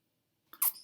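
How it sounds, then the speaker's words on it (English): A newborn baby girl gives a single soft hiccup, a brief faint catch of breath rising out of near silence, close and quiet. "You got the hiccups."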